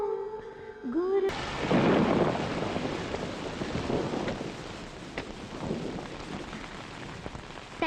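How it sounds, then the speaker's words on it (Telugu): Heavy rain pouring with rumbling thunder in a movie scene, a dense roar of falling water rising suddenly after a short musical passage, with low booming swells beneath. "వర్షం పడుతోంది"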